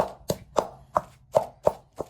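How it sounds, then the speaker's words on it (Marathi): Onion is crushed by hand in a steady rhythm of seven dull, evenly spaced thuds, close and fairly loud. "कांदा पण चेचायचा त्याच्यात"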